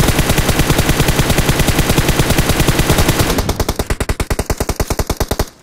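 Rapid automatic gunfire in PUBG Mobile, a loud, steady stream of closely spaced shots that slows into distinct bursts before stopping, with no talk over it.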